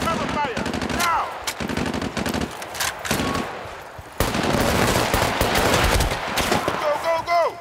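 Battlefield: Bad Company combat, with heavy automatic gunfire in loud, rapid bursts, sustained fusillades and distant shots, while shouted voices cut in between the volleys.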